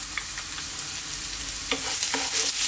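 Garlic dropped into very hot sunflower oil over high heat for a chicken stir fry sizzles loudly and steadily, with a brief burst of stirring and crackling near the end and no voices.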